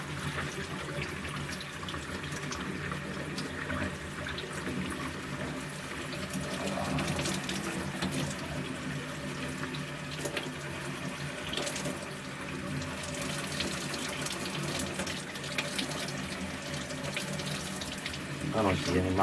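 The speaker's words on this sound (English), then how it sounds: "Adjust the water flow with the tap so the water level is steady at B between the two marking strips." Water runs steadily from a tap into a sink during home black-and-white film development, a continuous moderate splashing flow with soft voices talking faintly in the background.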